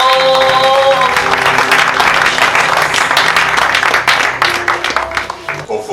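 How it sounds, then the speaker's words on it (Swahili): A church congregation claps hands together in a dense, loud burst of applause, with voices mixed in and the clapping thinning out toward the end. "Hebu piga makofi na piga makofi."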